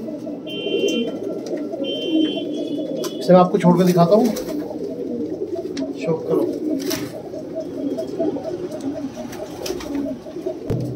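Pigeons coo in a steady low chorus nearby, white-eyed desi fancy birds, while someone talks over them and a brief electronic beeping sounds early on.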